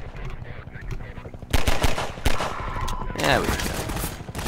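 SMG fire from enemies in Half-Life 2 crackles in rapid bursts, loud sharp volleys mixed with short single shots and game effects, while someone talks briefly over the action.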